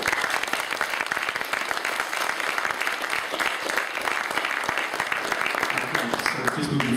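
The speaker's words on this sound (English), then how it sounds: "Let's give them a clap." An audience claps steadily for a panel after a renewable energy discussion, dense applause sustained throughout with some voices mixed in.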